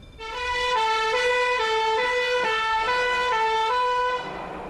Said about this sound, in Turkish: Alarm çalıştırıldı ve itfaiye yola çıktı.